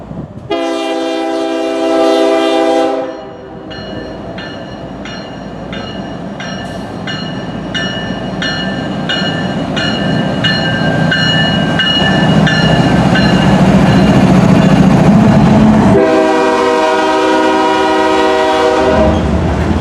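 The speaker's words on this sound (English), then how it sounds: "Those are the headlights of the westbound Galesburg to Lincoln Manifest." A BNSF freight train led by an ES44DC locomotive in Heritage 2 paint, a westbound Galesburg to Lincoln manifest in Iowa, sounds loud sustained horn blasts at the start and end, with a steady rumble and rhythmic wheel clatter as it passes close by.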